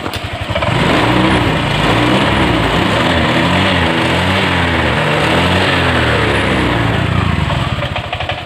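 A Honda Vario 125 scooter with a smoking engine that burns oil runs continuously after restarting, a loud, close, steady buzzing drone with a slightly uneven pulsing rhythm and no talking.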